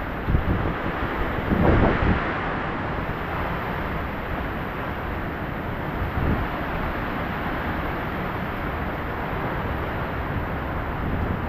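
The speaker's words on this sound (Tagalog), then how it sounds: "Umadagundong po yung hangin." Strong typhoon wind roars continuously as a dense, steady rumble buffeting the microphone, with a brief louder gust near the start; no voices.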